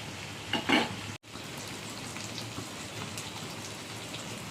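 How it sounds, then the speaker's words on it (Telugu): Chicken leg pieces deep frying in hot oil give a steady, close crackling sizzle like rain. It drops out for a moment, then carries on evenly. "పీస్ అయితే బాగా ఫ్రై అయిపోయింది"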